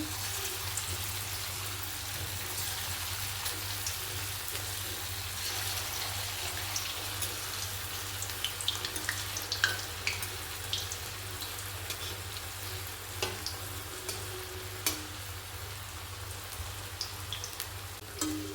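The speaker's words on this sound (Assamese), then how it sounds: "এতিয়া তেলত এটা এটা কৰি দি দিম। এনেকৈ ফ্ৰাই কৰি লওঁ এইখিনি।" Bottle gourd pitha frying in hot oil, a steady soft crackle and sizzle with occasional small pops, fairly quiet and continuous with no talking.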